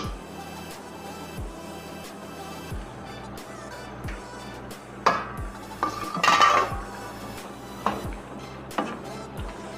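Kachnar buds and mutton being stirred and fried in a pot, with repeated metal-on-metal scrapes and clinks of a spoon against the pot in a steady rhythm, plus a few louder clatters midway.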